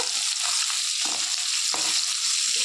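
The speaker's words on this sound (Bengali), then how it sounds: "এবার মাছটা ভেজে নেব" Loud, steady sizzling of fish frying in hot oil, with a couple of sharper crackles and stirring scrapes, close and continuous, no voices.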